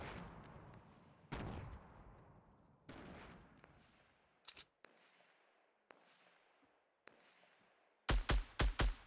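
Fortnite Battle Royale gunfire: a series of sharp shots with decaying echoes, spaced a second or so apart, followed by a fast, loud cluster of bursts near the end.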